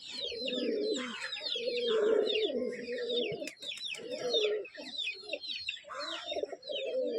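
Pigeons coo continuously and close by, with a female Malay pigeon among the birds, the deep rolling coos layered and overlapping in a steady chorus with higher chirps above.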